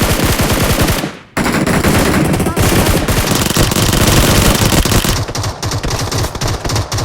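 Gunfire in a PUBG gunfight, loud rapid automatic bursts that keep rattling almost nonstop, broken by one brief pause near the start and easing into sparser shots toward the end.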